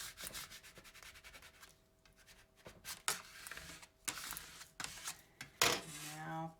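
Layered vinyl is rubbed down firmly onto a surface, giving close scratchy rubbing strokes in uneven bursts with short pauses between them.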